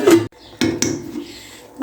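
A metal lid is set on a pot of milk vermicelli (doodh seveiyan) in a home kitchen, making a short clatter followed by a couple of lighter knocks and a scrape, all close and fairly loud.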